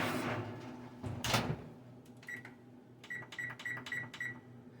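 Oven door handled in a home kitchen while making candy turtles: a faint rattle and a solid clunk of the door, followed by a quick series of soft electronic beeps, all quiet and close.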